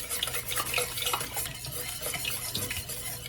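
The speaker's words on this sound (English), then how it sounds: "You just want to mix, mix, mix. Make sure everything gets incorporated." Mac and cheese is stirred in a pot with a steady, close, wet scraping and thick squelching that runs unbroken and fairly quiet, with soft clinks of the utensil against the pot.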